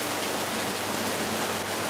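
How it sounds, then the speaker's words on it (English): Heavy rain pours down in Lagos, a dense, steady wash of falling water that stays constant and enveloping with no gaps. "This is the rain, man. It's raining."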